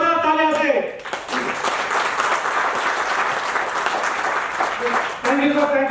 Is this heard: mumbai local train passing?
no